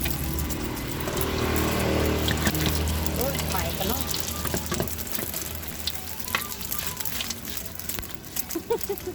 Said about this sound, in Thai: ไข่เจียว หอมนะทุกคน ดูบานๆ